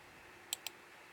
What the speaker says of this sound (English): Sorry if you hear the clicking of the mouse.